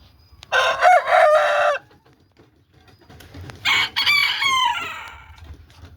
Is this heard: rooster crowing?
yes